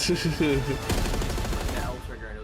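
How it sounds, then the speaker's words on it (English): Galil rifle firing in Black Ops 6, a rapid burst of automatic gunfire with sharp, loud shots rattling in quick succession, with a brief voice near the start. "That sounds like the Galil."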